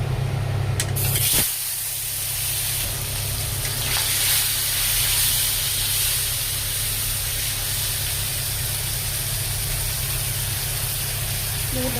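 Fish frying in hot oil in a heated kadai, a steady sizzling hiss that holds evenly throughout after a brief louder burst at the start.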